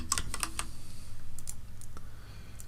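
Short burst of computer keyboard typing, a folder name entered in a handful of crisp clicks at the start, followed by a few sparser, softer keystrokes and low background hum.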